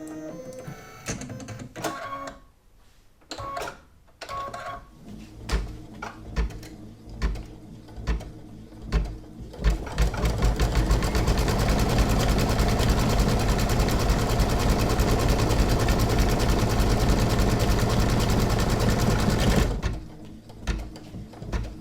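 An embroidery machine stitching an in-the-hoop coaster from a basic blank file: rapid mechanical needle chatter, first in short stop-start bursts, then a loud, sustained run of fast even stitching that cuts off near the end.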